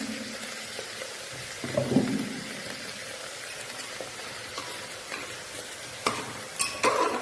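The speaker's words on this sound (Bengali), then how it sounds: "এখন একটু তেলে নাড়াচাড়া করে নেব। দেখো একটু আদা পেস্ট দিয়ে দিচ্ছি আমি।" Ginger paste fries in hot oil for khichuri with a soft, steady sizzle up close, broken by occasional scraping stirs of a spoon in the pan, and no one speaks.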